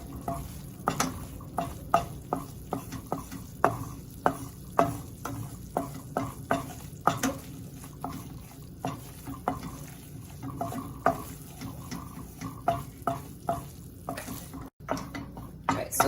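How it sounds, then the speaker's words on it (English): A flour and fat roux being stirred in a pan for shrimp etouffee, a spoon scraping in regular strokes over a soft, steady sizzle, close and moderately quiet with no talk. "It needs to cook longer than that so that we can get to our dark roux color."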